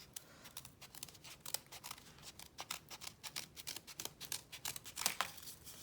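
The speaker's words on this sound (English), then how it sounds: "Now time to cut these out." Scissors snip quietly through paper while cutting out paper hearts, a rapid irregular run of crisp cuts with faint crinkling, close and alone.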